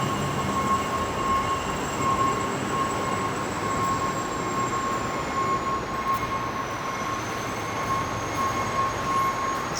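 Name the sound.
trains inside Union Station, Toronto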